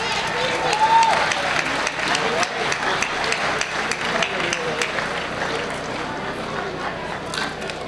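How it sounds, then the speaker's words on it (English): Crowd applause for the farmworkers' union president at a commemoration of the Delano grape strike, dense sustained clapping from a large gathering with scattered voices and a brief whistle mixed in, fading slightly toward the end. "Un gran aplauso nuevamente para el querido presidente del Sindicato de Campesinos, el señor Arturo Rodríguez."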